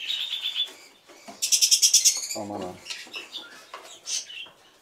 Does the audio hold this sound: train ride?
no